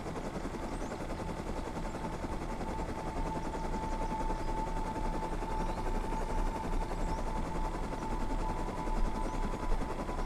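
Minicopter flying in the video game Rust, a steady loud rotor drone with a rapid chopping pulse that holds evenly throughout.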